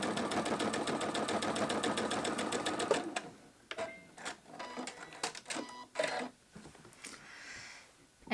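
A sewing machine stitches a quilted fabric bowl cozy in a fast, loud, rhythmic whir for about three seconds, then stops and gives way to scattered mechanical clicks and taps as the fabric is handled, with no voices.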